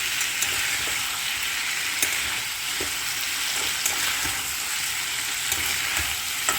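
Chili paneer fries on high flame in a pan, a constant close sizzle broken by regular sharp clicks and scrapes of a spatula stirring it, with no one talking.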